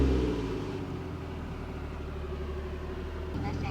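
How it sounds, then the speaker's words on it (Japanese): A Toyota Cresta JZX100 with a 1JZ-GET engine starts up and settles into a steady, low rumbling idle, heard close by under a talking voice. "じゃあエンジンかけてみましょうか。"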